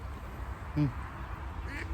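Ducks being fed give two short quacks, a louder one followed by a fainter one, against a low outdoor background hum.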